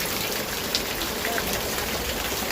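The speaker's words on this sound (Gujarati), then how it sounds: "ઘેરે પાછા આવ્યા છીએ, તમે જો કેવો વરસાદ પડે." Heavy monsoon rain pours down steadily and close by at a rural home in Gujarat, a dense, even hiss of falling water without any break or voices.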